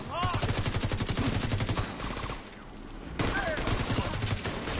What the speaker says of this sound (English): There's also some guy over there shooting the machine gun.